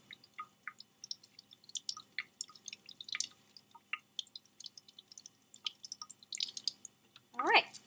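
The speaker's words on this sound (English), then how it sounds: "we're going to rinse the saffronin off." Water drips and trickles as safranin stain is rinsed off a microscope slide during a Gram stain, a quick, irregular patter of small drops, fairly faint and close, with no one talking.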